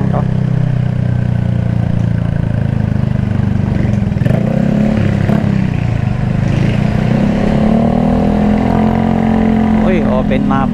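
A motorcycle with an open muffler revs loudly and close by on a national road, its rough engine note rising and falling beneath the steady drone of a vehicle, with someone talking over it.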